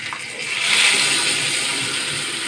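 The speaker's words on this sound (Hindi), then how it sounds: "थोड़ा सा इसके अंदर पानी दे देता हूँ" Water is poured into ground gram flour batter for a baingan aloo besara curry, a close, steady splashing gush lasting a couple of seconds.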